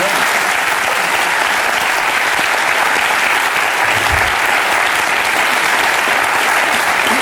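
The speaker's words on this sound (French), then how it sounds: "Des applaudissements pour Philippe, qui est un bon wedding planner." Sustained, dense applause from a studio audience at a French wedding-themed show, loud and steady throughout with no talk over it.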